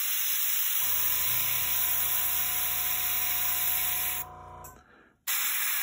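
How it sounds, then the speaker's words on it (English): An airbrush sprays blue paint onto a Necron Warrior miniature, giving a steady close hiss with a faint motor hum that runs for several seconds, then cuts out briefly before resuming. "I'm just going to give it a little spray through, see that blue's coming through."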